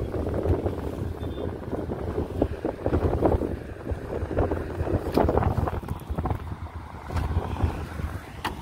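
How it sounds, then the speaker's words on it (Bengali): A ship passes right beside a small fishing boat on the Hooghly river, with a low, continuous engine rumble, water wash and gusty wind buffeting the microphone, plus occasional knocks and splashes nearby. "এই দেখো একদম নৌকার পাশ থেকে যাচ্ছে জাহাজটা"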